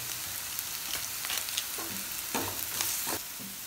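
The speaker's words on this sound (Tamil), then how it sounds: "இப்போ மசாலா பொடி சேர்த்து நல்லா கலந்து வச்சதை ஓரமாக தள்ளி வச்சுக்கலாம்." Sautéed capsicum stirred with masala powder in a hot pan, with steady sizzling under repeated scraping stir strokes, close and without talk.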